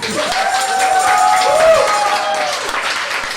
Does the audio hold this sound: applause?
yes